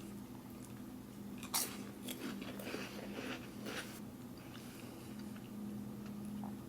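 Someone eats grape jelly from a 1981 MRE ration, with soft close-up wet mouth sounds and faint chewing over a steady low hum, and no talking.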